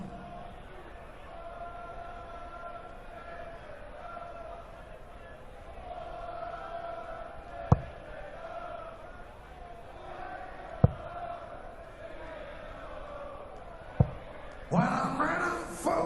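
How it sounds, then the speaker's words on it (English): A German crowd at the 2015 European Darts Open singing a player's name in a sustained chant that rises and swells in the hall, beneath a commentator's voice, with a few sharp thuds of darts hitting the board. "the crowd are starting to sing Dave Chisnell"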